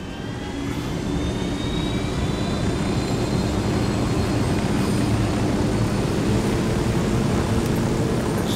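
A helicopter flies in a video game, making a loud, continuous rotor and engine roar that starts softer and then holds steady and close for several seconds, with no talk.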